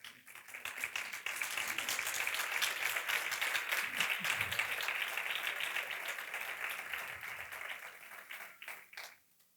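Church congregation applauding during a revival service, a broad wash of clapping that swells quickly and holds steady for several seconds before fading, with faint voices mixed underneath.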